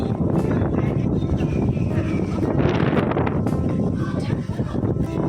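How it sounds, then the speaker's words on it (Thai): Strong gusts buffet the microphone with a heavy, continuous low rumble and roar, loud and close throughout. "ลมแรงมากทุกคน ทุกคน ลองฟังเสียงลมนะคะ"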